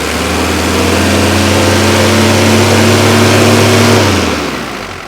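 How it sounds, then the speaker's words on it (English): A 1983 Mercedes 240D diesel engine climbs from idle into a loud, sustained rev with a steady, rising drone, then eases back down near the end. "Now I'll bring it off idle and you'll hear it rev up."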